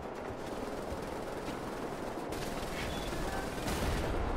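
Explosions and heavy gunfire in the shooter game Wolfenstein: The New Order, a dense, continuous roar of blasts and rapid shots that builds louder toward the end, with no voices over it.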